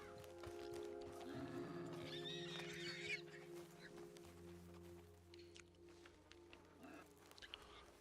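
A horse in the video game Red Dead Redemption 2 gives a brief whinny amid layered game ambience and background voices, the neigh fairly clear early on before the scene settles into steady droning.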